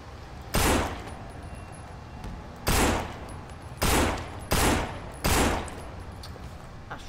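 Five loud, separate bursts of gunfire in the zombie shooter No More Room In Hell, each one a short, sharp blast, spaced unevenly over a steady low background hum.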